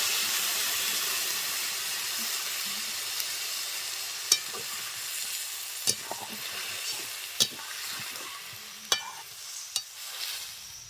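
Shrimp frying in a pan gives a steady, moderately loud sizzle, with a few sharp utensil clicks as a small splash of water goes in; no one speaks.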